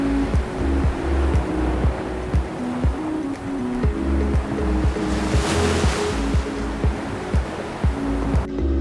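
Ocean surf rolling onto a short beach under an overcast, chilly sky, a continuous wash of breaking waves with a swell in the middle, loud and alone, with some wind buffeting the microphone.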